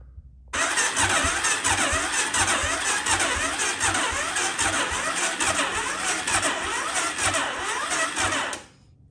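An Arctic Cat DVX400 ATV engine cranks over with a rapid, rhythmic chugging from the starter, churning steadily for several seconds without catching, then stopping.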